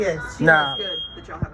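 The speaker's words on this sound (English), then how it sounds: "that is the fire alarm." A smoke alarm sounds indoors with no cooking underway, giving a thin, steady high-pitched tone that persists beneath close conversation.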